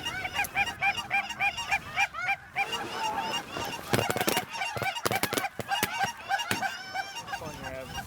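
A large flock of geese honks continuously overhead while flying above a Texas Panhandle goose hunt, a dense chorus of overlapping calls with sharp bursts of nearer cackling rising from the mass of birds.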